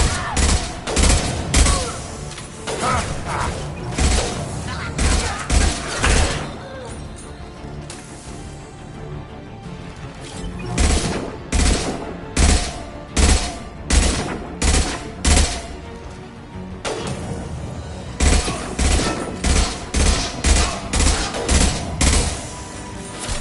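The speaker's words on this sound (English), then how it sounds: "Firing an impact shot." Impact shot gunfire in Mass Effect 2, repeated loud bursts of combat shots in clusters with brief lulls between, echoing over a steady battle backdrop.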